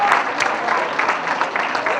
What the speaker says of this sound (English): Everyone, let's give all of our students, young and old, a big round of applause.